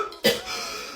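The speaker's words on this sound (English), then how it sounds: "I am tired of hearing you cough." A single sharp cough from a person, short and close, followed by a quiet tail of room noise.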